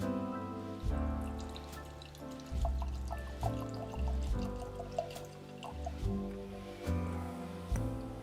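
Thirty-year-old Canadian whisky being poured from a small bottle, with a series of quiet drips and trickles over soft background music that rises and falls in repeating phrases.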